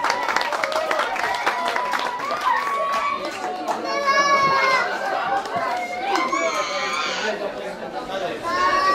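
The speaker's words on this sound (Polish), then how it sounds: "Wielkie brawa dla pana Damiana" A crowd claps for a winner at a prize ceremony after a 10 km race, with children's voices and chatter mixed into the applause and a microphone voice breaking through at times.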